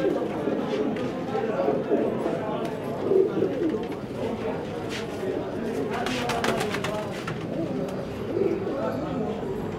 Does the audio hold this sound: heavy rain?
no